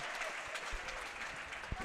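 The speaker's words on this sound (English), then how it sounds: "And Macy Zerflut gets a nice round of applause." Crowd applause in a high school basketball gym during the fourth quarter of Assumption vs. Newman, a diffuse patter of clapping under a commentator's voice, with a couple of sharp thumps near the end.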